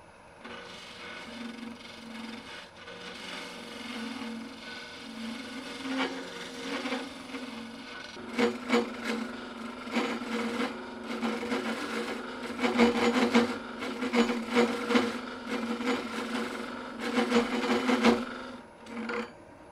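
A woodturning tool hollows a wooden form on a lathe, giving a steady scraping rasp that grows louder and more broken, with bursts of gritty cutting in the second half.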